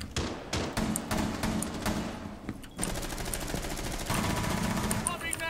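Rapid bursts of automatic gunfire from Rainbow Six Siege, loud and continuous across the whole stretch, with a brief lull near the middle before the firing resumes just as dense.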